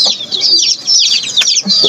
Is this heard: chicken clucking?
yes